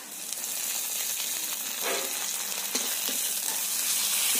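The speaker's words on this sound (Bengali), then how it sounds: "রসুনে যতক্ষণ কাঁচা গন্ধ না যাবে ততক্ষণ ভাজতে হবে।" Chopped onions and garlic paste fry in a pan for a prawn and taro dish, a steady close sizzle with occasional stirring scrapes, no talking.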